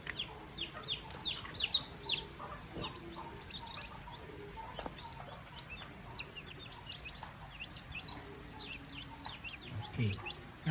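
Newly hatched chicks peep in high, thin bursts through the clip, with a hen clucking now and then, faint and close, with people talking quietly in the background.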